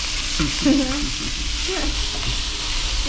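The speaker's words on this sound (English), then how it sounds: "I make fried rice." Fried rice cooking on a sizzling hot plate at a Pepper Lunch restaurant: a constant close sizzle with stirring scrapes, under brief voices and background chatter.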